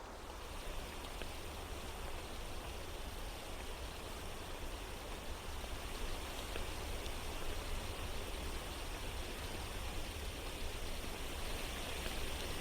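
Heavy thunderstorm rain falls in Minecraft Bedrock with a Biomes + Realism add-on. A dense, even rushing hiss continues unbroken and fairly quiet, with no distinct thunder claps.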